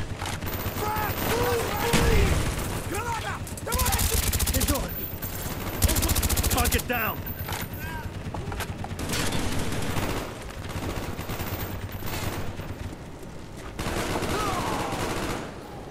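Machine gun fire in the first-person shooter Call of Duty: Black Ops, heavy automatic bursts coming in several loud, dense waves between quieter stretches, with whistling and other battle noise in between.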